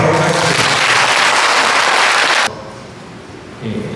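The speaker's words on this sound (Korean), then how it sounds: "우리 김영호 신부님 환영 인사 박수로 받도록 하겠습니다" Loud, dense audience applause at a Bucheon interfaith prayer gathering for peace and unification, welcoming a priest. The clapping fills the room for about two and a half seconds, then cuts to a quieter hall with faint murmuring.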